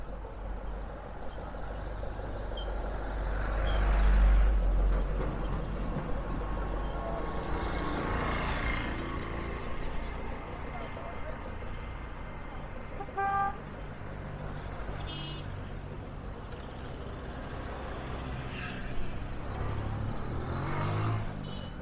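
Street traffic of Japanese imported cars in Kisumu, Kenya: a steady wash of passing engines and idling vehicles, with a couple of short car horn toots cutting through the moderate, continuous road noise.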